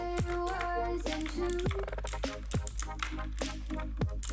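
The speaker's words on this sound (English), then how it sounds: "You will get a clicky feel when you type it." Typing on a RedGear Chameleon RGB mechanical keyboard, bright clicky keystrokes in quick irregular bursts, close and loud over a constant low hum.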